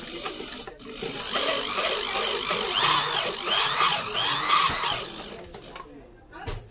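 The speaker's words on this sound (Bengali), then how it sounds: "এখন মেশিনটি চালিয়ে দেখাবো যে এখন অ্যাকুরেট আছে কিনা।" A motorised sewing machine runs after its motor has been set up, giving a fast, rhythmic mechanical whirring and clatter for several seconds. The sound starts and stops abruptly.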